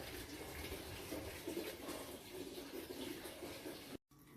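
Water pours steadily onto potted plants, a soft continuous splashing rush that runs unbroken for about four seconds before cutting off briefly.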